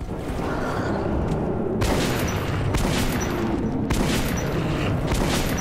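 Gunshots from weapons in Metro 2033 Redux, two sharp broadband bursts a couple of seconds apart over a steady, dense game backdrop, fairly close and loud.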